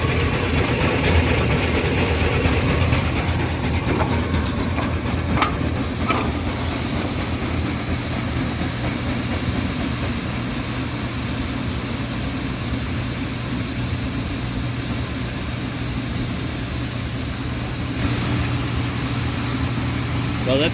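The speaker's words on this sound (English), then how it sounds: "That's your auger." A grain auger runs steadily while filling bins with wet corn at about 23% moisture, giving a continuous mechanical hum and hiss throughout, with a faint background voice.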